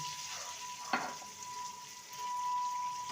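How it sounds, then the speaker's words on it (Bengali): Potatoes frying in a pan for a bitter gourd dish, a quiet low sizzle with a single brief knock or stir near the start, then a steady soft frying hiss that grows slightly louder toward the end. "আলুটাকে ভেজে নেব আলুটাকে একদম লাল করে ভেজে নিয়েছি"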